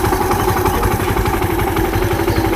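A Honda Intruder 125 motorcycle with a misfiring fault idles close by at about 1500 rpm, giving a steady low, chugging engine drone with faint mechanical clatter and no talking.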